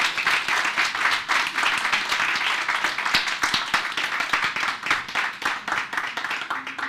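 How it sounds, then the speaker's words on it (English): Sustained applause from an audience at a United Nations Jamaica partnership forum, dense steady clapping for the departing panelists that holds loud and even throughout with no talk over it. "Please give them a round of applause."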